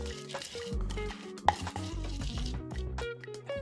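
Corn kernels sizzle and crackle in a hot pot, with stirring scrapes and a sharp clink partway through, loud and close.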